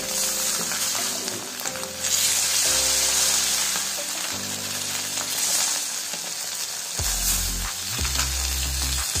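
Rava-coated fish pieces fry on a hot tawa with a loud, steady close-up sizzle and crackle, broken by a few dull knocks and clunks as pieces are set down and moved.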